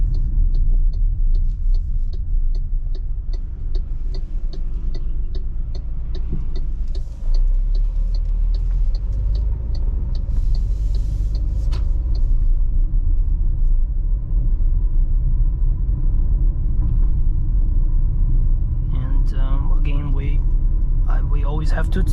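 Constant low road rumble and tire noise inside an MG ZST 1.3 turbo driving on a rough New Zealand road, a steady heavy drone filling the cabin while someone talks over it.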